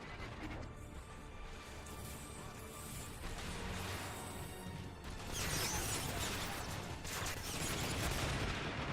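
Enemy turrets fire steadily in Transformers: War for Cybertron, a dense, continuous mechanical barrage of rattling shots and clanks that swells louder and harsher in the final seconds, with no voices.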